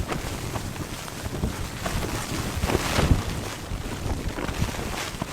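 Steady, heavy wind buffeting the microphone, with a constant broadband roar and gusty rises and falls throughout.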